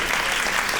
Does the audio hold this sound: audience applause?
yes